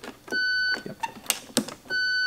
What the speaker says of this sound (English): it should be the threes that are beeping.